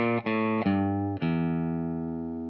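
An electric guitar plays a descending blues scale, a few sustained, clean-toned notes picked one after another, loud and close with a long ringing tail and no talking.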